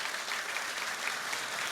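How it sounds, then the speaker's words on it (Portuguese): An audience applauds a pastor's series in a church setting, a steady, dense wash of clapping from many hands that holds evenly for under two seconds with no voices on top. "Todos vocês, uma salva de palmas para ela."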